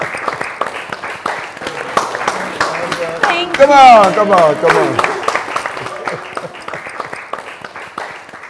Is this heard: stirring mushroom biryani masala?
no